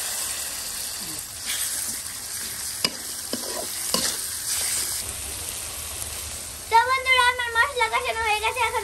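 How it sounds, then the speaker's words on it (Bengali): Chopped onion and spices fry in a pan while being stirred, with soft sizzling and scattered scraping knocks, followed by a voice speaking over the cooking near the end. "এখন আমি পেঁয়াজ কুচি দিয়ে দিব। এখন আমি একে একে মশলাগুলো দিয়ে দিব।"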